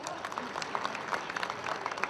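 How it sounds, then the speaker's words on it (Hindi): Audience at a mushaira and kavi sammelan poetry gathering in a hotel in Indore clapping, a soft crowd of hands with a few sharper claps and faint voices mixed in, quiet and steady. "इन तमाम लोगों के लिए आप एक बार जोरदार तालियां बजा दें।"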